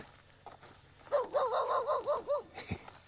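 A dog on a farm in Portugal gives a quick run of short, high, yelping barks at moderate distance, with no one talking over it.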